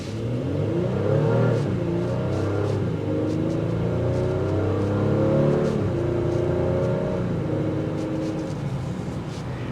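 Engine and exhaust of a 2025 Honda Pilot Elite SUV on the move, heard from inside the cabin as a steady low drone that rises and falls with shifting pitch through gear changes, with no talking.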